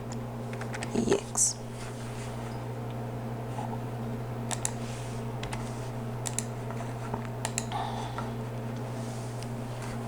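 Computer keyboard keys tapped while a file name is entered in MATLAB, a few light clicks scattered across the stretch over a steady electrical hum, with a brief voice near the start.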